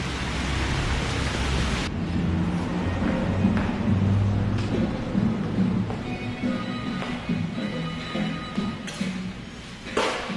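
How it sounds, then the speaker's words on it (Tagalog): Steady rain falls outside a PX Mart supermarket on a rainy day, a dense continuous hiss with a low rumble, fairly close and loud, with no voices. "Iwanan ng payong kasi maulan."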